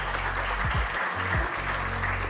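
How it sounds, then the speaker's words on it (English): Welcome applause from a conference audience at the Munich Security Conference energy security hub, dense and even clapping that holds steady throughout over a low background hum. "I would like to ask Benedetta Berti on stage and you for a big welcome applause"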